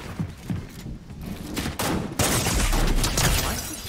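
Rapid gunfire from a DMR in a video game, with dense bursts of shots that get heavier and louder in the second half. Loud and continuous, with no voices.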